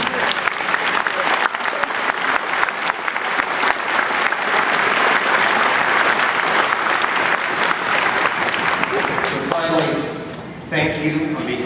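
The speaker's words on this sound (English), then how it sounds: "I'd like to give a great big hand of applause to the families." An audience at a military homecoming ceremony in Kansas claps loudly and steadily for about ten seconds, then the applause thins out and a voice begins speaking.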